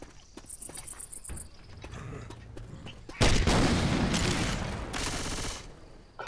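A grenade launcher firing in a video game, with a sudden loud broadband blast that lingers as a dense rumbling explosion over a few seconds, after quieter ambient game noise and faint clicks.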